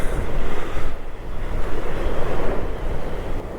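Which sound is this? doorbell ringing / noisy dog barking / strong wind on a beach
strong wind on a beach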